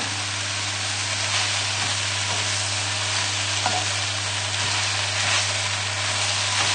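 Spinach wilts in a hot frying pan beside mushrooms for a pork chop dish, a loud continuous close sizzle with occasional soft stirring knocks from being moved about, steady throughout and without talk.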